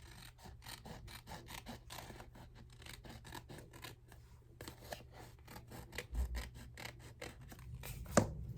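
Scissors snipping through a file folder: a series of quiet, crisp cuts in an irregular rhythm, close by, with soft rubbing and handling noises between the snips.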